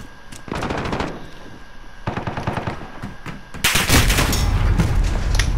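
Automatic and rapid gunfire from Call of Duty: Modern Warfare, with dense bursts of shots at first, then a louder, sustained barrage with heavy booms near the end, loud and close.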